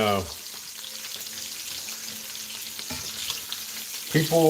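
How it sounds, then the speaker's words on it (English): Bacon frying in a pan gives a steady, close sizzle with scattered crackles and pops, and a couple of louder clatters from handling the pan near the start and end. "that bacon does snap, crackle, and pop too much"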